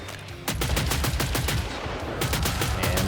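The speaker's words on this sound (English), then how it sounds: "You shoot gun. Gun go boom." Rapid, loud automatic gunfire in Killing Floor 3, a steady stream of close shots with almost no talking.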